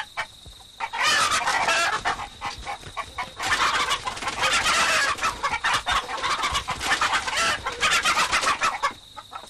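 Chickens cluck and squawk in an agitated, loud, close flurry of overlapping calls that carry on almost without pause, with no talking.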